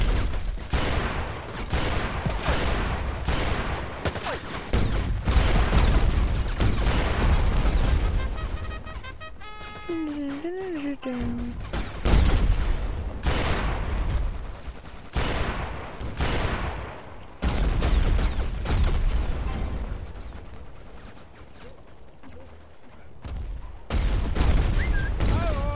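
Bursts of gunfire and booming explosions from the video game Battlefield Heroes come in repeated clusters over a steady background rumble, with a short tonal game effect partway through.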